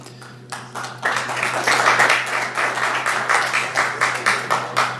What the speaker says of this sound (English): You guys can hold your applause.